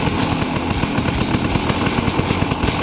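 A motorcycle engine fitted with an FMF Gnarly exhaust and FMF Power Core 2 silencer runs rich, giving a loud, close, rapid pulsing putter that stays constant with no voices.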